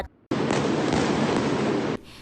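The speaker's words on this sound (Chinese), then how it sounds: "回头门路口看，阁有人走来放烟火" Aerial fireworks set off late at night near a residential community make a sudden loud, sustained roar of bursts and crackle that starts abruptly, holds for over a second and a half, then cuts off.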